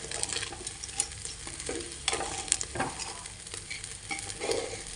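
Rice fried with carrot, capsicum and potato is stirred in a hot pan, with a quiet continuous sizzle broken by irregular scraping and clattering strokes of the spoon.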